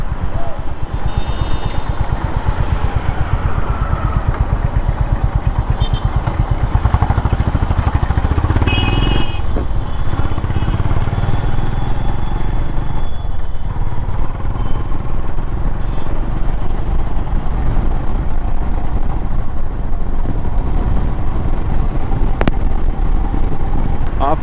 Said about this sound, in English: I took out the CB for a spin